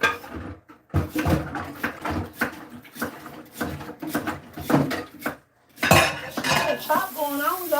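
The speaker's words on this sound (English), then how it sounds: "I'm gonna wash these dishes real quick." Dishes get washed in a home kitchen: repeated clinks and clatters of pots, plates and cutlery, irregular and close, with running water, and a voice briefly speaking toward the end.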